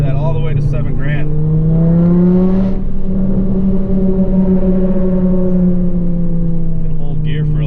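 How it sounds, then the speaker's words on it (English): A tuned Volkswagen 2.5 engine with a Stage 1 tune revs hard while driving, its steady drone climbing in pitch and then holding high as the car pulls through the gear, loud and close inside the cabin. "Man, she revs like crazy now."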